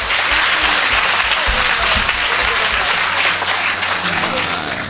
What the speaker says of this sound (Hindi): आपको अच्छा लग रहा हो मुझे तालियां वालियां बजा करके बताते रहो